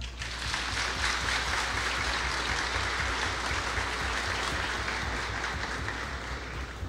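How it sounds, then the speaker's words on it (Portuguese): Applause from an audience fills the whole stretch at the official opening of a town festival, a dense, steady wash of clapping hands at moderate distance with no break. "uma salva de palmas."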